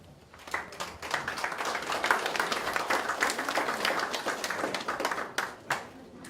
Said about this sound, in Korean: 박수로 연단으로 모셔주시기 바랍니다